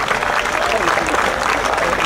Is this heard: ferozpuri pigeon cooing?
no